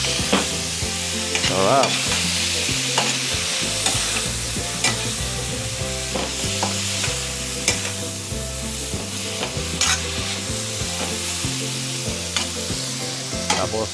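String beans and garlic sizzle and fry in a pan with cured pork etag, with a steady loud hiss and repeated stirring scrapes throughout.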